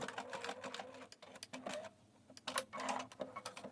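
A sewing machine top-stitches a dart on diamond-hem trousers in close, fast rhythmic bursts of clattering needle strokes, stopping briefly midway before running again.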